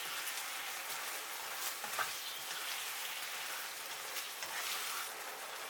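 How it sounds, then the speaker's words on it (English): Eggplant pieces stir-fried in a hot pan for a Chinese dish, giving a continuous soft sizzle like light rain, with faint stirring scrapes throughout and no talking. "Put the pieces of eggplant. Gently stir for 40 seconds."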